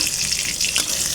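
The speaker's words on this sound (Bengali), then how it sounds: "ভাজাটা ভাজছি যাতে ভালো মতো ভেতরটাও ভাজা হয়" Bottle gourd leaf fritters fry in hot oil, a close, steady crackling sizzle with a brief scrape partway through, and no voices.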